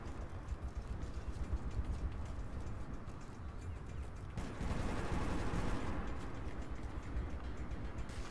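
Dense, continuous gunfire fills the space in Metro 2033 Redux, a loud wash of rapid shots and rumbling bursts with no pauses, growing slightly fuller partway through.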